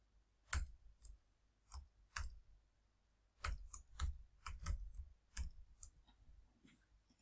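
Login details being typed on a computer keyboard: a quiet, close run of separate key clicks in uneven bursts, with short pauses between groups of strokes and nobody speaking.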